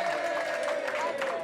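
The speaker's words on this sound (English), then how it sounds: "ladies and gentlemen, a round of applause for the only person who hasn't won the game" A crowd applauds briefly at a celebrity darts match, a dense patter of clapping with cheering voices mixed in.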